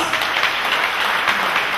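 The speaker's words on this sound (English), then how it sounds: "Come and clap for Christ Jesus." A church congregation claps together in praise during a service in Cameroon, a dense, steady wash of many hands that stays even and fairly loud for the whole short stretch.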